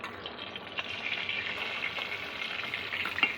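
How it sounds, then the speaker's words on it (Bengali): Koi fish fry in mustard oil, a dense hiss of bubbling oil that stays steady and moderately loud from start to finish with small crackling pops. "মাছগুলো ভাজা হয়ে গেছে, এবার আমি তুলে নিলাম।"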